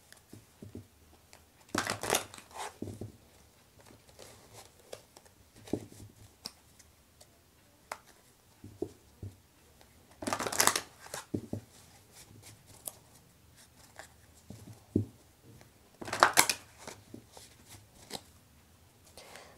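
An energy oracle card deck being shuffled by hand, with three short crisp riffling bursts among soft ticks, taps and small handling noises, close and fairly quiet.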